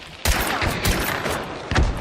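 Gunfire from the video game Hunt: Showdown, with loud sharp shots and bursts at irregular intervals across the stretch and a heavy final report near the end, with no talking.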